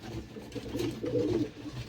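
Pigeons coo softly nearby while being fed washed wheat grain, a short run of low, throaty burbling calls that rise and fall with no talk.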